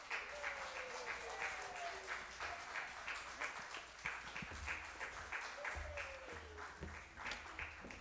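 Concert audience at an Independence Day July 4th show applauding a band, a dense, steady wash of many hands clapping throughout, fairly close and sustained, with occasional whistles rising over the crowd.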